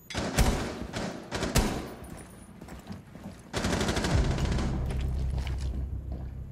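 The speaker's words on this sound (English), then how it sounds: "Ready for this wallbang?" Rainbow Six Siege gunfire goes through a wall, opening with a few sharp single shots and then a sustained rapid automatic burst with heavy thumps and rattling impacts, loud and close.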